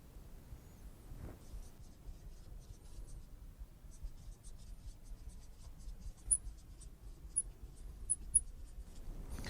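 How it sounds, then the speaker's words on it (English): Quiet pen or pencil scratching as a statement is written down by hand, faint and close, with soft irregular strokes and a few small taps continuing for several seconds. "I'll go ahead and write it down"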